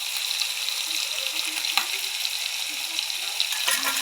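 Salted fish bladders fry slowly in a pan with a steady, fairly soft sizzle and crackle, broken by a few sharper pops and faint stirring clicks.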